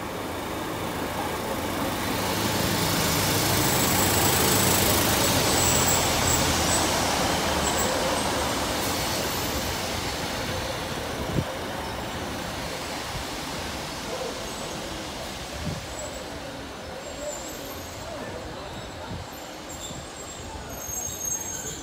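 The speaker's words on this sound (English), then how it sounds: "the 1022 East Midlands Railway service from Crewe to Newark Castle, arriving in on departure time." An East Midlands Railway passenger train on the Crewe to Newark Castle service pulls into Derby station, its broad rumble and rush of noise swelling to a peak and then easing off as it settles at the platform.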